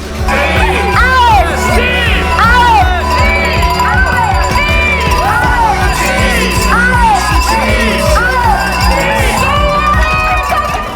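Spectators at a mountain bike race cheer and whoop with clanging cowbells and shrill whistles in a loud, continuous, close-up din, with voices shouting throughout.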